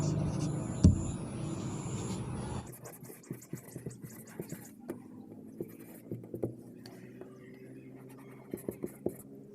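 Writing on a board during an English grammar lesson produces a run of light taps and scratchy strokes, fairly close and moderately quiet, after a brief louder stretch of room noise.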